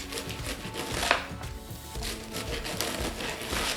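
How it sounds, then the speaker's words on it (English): A knife finely chops napa and purple cabbage for vegan coleslaw on a board, making quick, close, repeated crunchy cuts in an uneven rhythm with leafy crinkling. "With the cabbage, you're going to want to chop it finely,"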